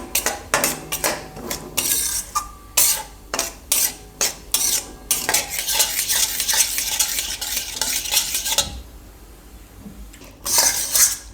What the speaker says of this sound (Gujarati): તો આમાં આપણે આ સૂજી નાખી દેવું. અને આપણે શેકી લેવું હોય.